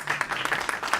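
Brief round of applause from an audience at a UK election hustings, scattered clapping for a Conservative candidate, moderately loud and close, lasting about a second.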